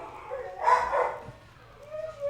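Dogs bark outside, a couple of muffled, distant yaps and a whimpering whine rising from a quiet indoor room, heard alone without talk.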